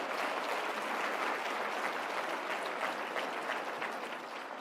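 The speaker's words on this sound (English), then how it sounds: "Can we give them a round of applause," A large conference crowd in a convention hall applauds steadily, a dense, even wash of clapping with no voices on top, fading slightly at the end.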